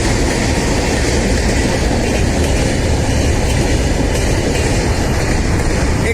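A train runs along a railway line beside the Dulung river near Jhargram, producing a loud, steady rumble with rapid clickety-clack of wheels, heard close and unbroken throughout.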